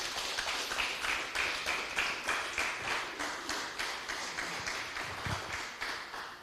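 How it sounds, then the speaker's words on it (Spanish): A church congregation claps together in a strong, rhythmic applause, the hand claps falling in a steady even beat that fills the room at moderate volume. "Den un fuerte aplauso al Señor, aleluya."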